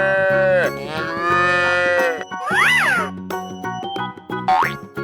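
A cartoonish cow moo from a 3D animal slide game, loud and drawn out, set among bright game music, chimes and sliding sound effects with no talking.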